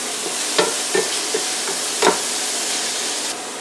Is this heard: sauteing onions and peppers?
yes